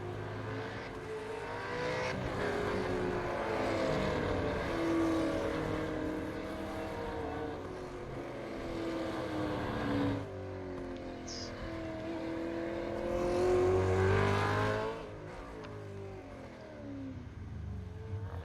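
Race cars from the iRacing game at Oran Park Raceway GP, Supercars qualifying, with steady engine drone and rising, sweeping revs of cars passing and accelerating continuously at moderate distance, no talk.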